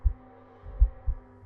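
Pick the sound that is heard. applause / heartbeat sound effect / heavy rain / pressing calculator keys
heartbeat sound effect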